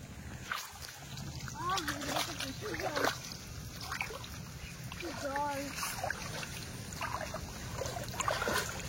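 Someone wades through neck-deep monsoon flood water around a house in the Sundarbans, with soft sloshing and splashing close by while people talk over it.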